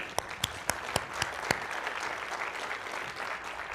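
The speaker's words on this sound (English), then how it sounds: "let's give them a round of applause" An audience breaks into applause during a live social media marketing session: a few sharp individual claps open, then dense, steady clapping from many hands fills the room.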